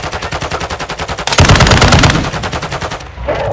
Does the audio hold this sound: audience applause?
no